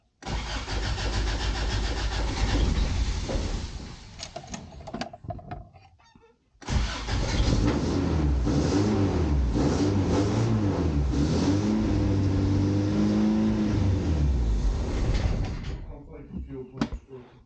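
Classic Toyota pickup truck engine cranks and starts, stumbles and dies briefly, then restarts and runs with revving and idling for over ten seconds, loud and close before cutting off.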